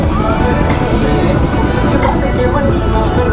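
A parade of many Harley-Davidson motorcycles, including CVO models, in Panchkula sends up a dense, loud, continuous engine rumble mixed with crowd babble and no distinct breaks.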